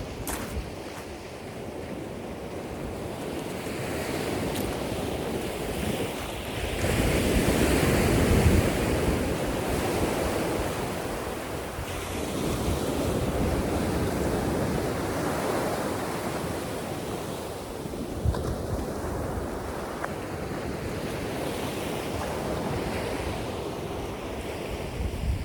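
Sea waves roll and break steadily on Bournemouth beach on a morning walk, a loud continuous wash of surf with swelling surges and some wind buffeting the microphone, no voices.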